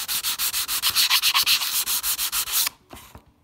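Rapid rhythmic back-and-forth strokes of 400 grit sandpaper on a flat metal surface being prepared for powder coating, loud and close, ending abruptly in quiet.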